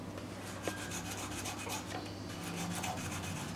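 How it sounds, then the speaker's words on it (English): Paint is scraped off small dollhouse shelves in a continuous dry, rasping rub that holds steady and close for a few seconds with no pauses. "what I'm doing is just scraping some of the paint off so it looks like it's all scuffed up"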